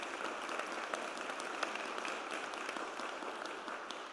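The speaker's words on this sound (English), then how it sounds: "let's just clap it out for the Paulus family" A crowd claps for a family at a charity cycling tour event on Long Island, a soft, fairly distant and even patter of applause.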